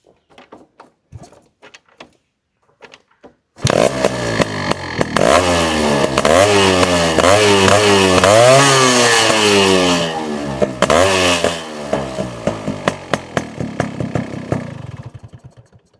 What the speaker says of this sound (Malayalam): ഇനി നമുക്ക് ഈ വാഹനം സ്റ്റാർട്ട് ചെയ്തിട്ട് ഇവൻ്റെ എക്സോസിൽ നിന്ന് പൊഴിയുന്ന സംഗീതം ഒന്ന് കേട്ടിട്ട് വരാം